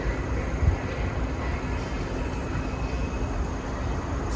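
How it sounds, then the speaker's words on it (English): A train rolls along a railway beside a city park in Korea in August, heard as a steady, fairly close rumble that holds evenly from start to finish with no voices. "Oh, it is train. Ah, it is train road, railway road."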